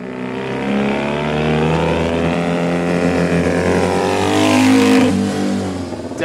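A 1970 Honda CD175 twin-cylinder motorcycle engine with dual megaphone mufflers on the original head pipes runs close by, its throaty exhaust note rising steadily as the revs climb.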